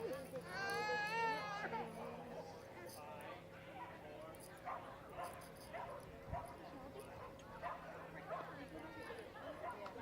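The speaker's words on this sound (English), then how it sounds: "Baby crying here, apologies for that." A baby cries briefly near the start with high wavering wails at a dog agility event, while dogs bark and yip, people talk throughout and a steady hum runs underneath.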